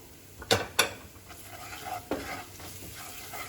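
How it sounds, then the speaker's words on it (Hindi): A spoon stirs chili powder, coriander powder and amchur frying in a pan for vada pav, a few quick metallic scrapes and clinks over a soft sizzle, close but fairly quiet. "अच्छे से मिला लेंगे इन सबको।"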